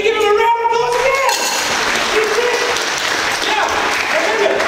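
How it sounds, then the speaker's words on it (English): Loud, steady applause from a magic show audience for a volunteer fills the whole stretch, with a few tonal voices or whistles rising over the clapping. "give him a round of applause again!"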